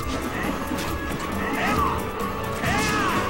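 A Little Mac forward smash connecting in Super Smash Bros, a loud crashing hit rising out of dense, continuous game noise, with a second burst near the end.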